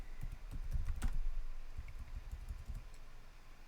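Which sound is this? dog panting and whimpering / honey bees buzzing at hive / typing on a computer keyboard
typing on a computer keyboard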